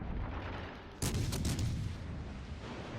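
Heavy naval cruiser guns firing high-explosive shells in World of Warships, a sudden loud broadside boom after a rumbling lull, with a long rolling decay.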